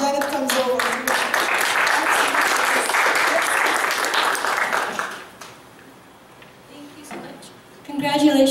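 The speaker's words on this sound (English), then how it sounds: "We'd like to give one more hand of applause before Janet comes over." Audience applause at a poetry open mic, a dense wash of clapping for about five seconds that fades to quiet, with voices speaking before and after it.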